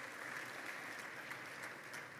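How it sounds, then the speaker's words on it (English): Audience applause at a live AI summit as a panelist is welcomed onto the stage: a steady, dense wash of clapping, fairly distant and even throughout, with no voices over it. "let's give her a warm round of applause"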